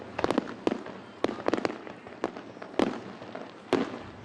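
Fourth of July fireworks launching over the river at Yorktown, a series of sharp, loud booms and crackling bursts arriving in irregular clusters, some in quick doubles and triples, with no talk.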